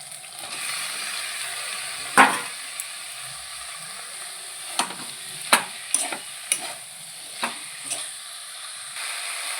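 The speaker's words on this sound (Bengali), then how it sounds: "সামান্য একটু নুন দিয়ে ভালো করে মশলাটাকে ভেজে নেব" Spice paste frying in oil with a pinch of salt, for a bottle gourd greens curry with live magur and koi fish, giving a steady close sizzle broken by several sharp scraping stirs of a spoon against the pan.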